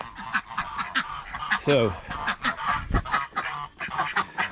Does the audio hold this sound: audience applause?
no